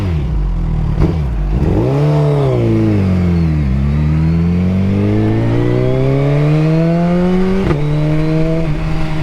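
A motorcycle with a quickshifter launches hard under launch control, its loud, close engine note dipping and then climbing steadily in pitch, with a brief break near the end as it shifts.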